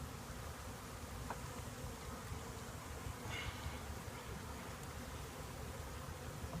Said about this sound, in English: And now the bees will crawl out of the package from where you pulled the feed can.